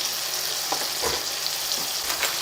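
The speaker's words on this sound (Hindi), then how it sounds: "अब इसको अच्छे से भून लेंगे।" Whole spices, including black cardamom, cumin, cloves and black peppercorns, being fried in oil for chicken biryani, with a steady close sizzle and a few soft stirring scrapes.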